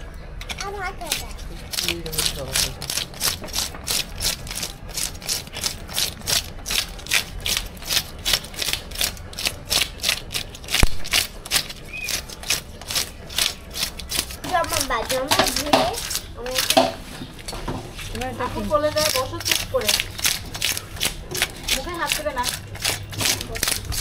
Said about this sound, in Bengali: আঁশ ছাড়ানো দিয়ে আঁশগুলো ছাড়িয়ে নেব